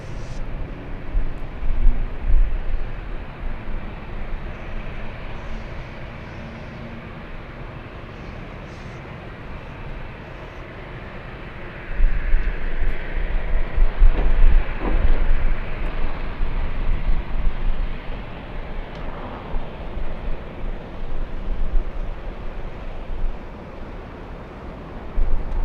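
Aeromexico Boeing 787 Dreamliner taxiing at LAX: a steady, distant jet engine rumble and hiss that swells louder midway, with airport wind noise throughout.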